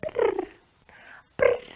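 A voice imitates a cat's purr in two short rumbling bursts, close and fairly loud, with a quieter breathy stretch between them.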